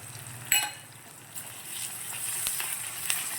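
Ginger garlic paste and onions sautéing in a pan for veg kurma give a soft, steady close sizzle with a few brief clinks of stirring, and no voices.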